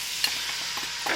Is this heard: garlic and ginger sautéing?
yes